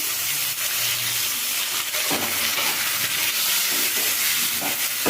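Tomato and magaj paste hits a hot pan of frying broccoli masala, giving a steady, loud, close hiss and sizzle with occasional stirring scrapes.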